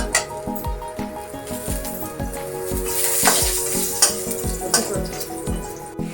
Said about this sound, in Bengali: আর একটু লঙ্কা ভাজা হচ্ছে।